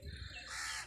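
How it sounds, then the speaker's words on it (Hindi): Koels call near a wheat field at harvest time, a brief bird call heard at moderate distance over low outdoor background noise. "हल्की हल्की बड़ी मीठी आवाज़ है कोयलों की।"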